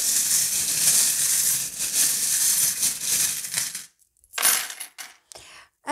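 Fortune-telling charms being cast, a loud, dense rattling clatter of small trinkets shaken for about four seconds, then several short separate clinks and drops scattered across the last two seconds.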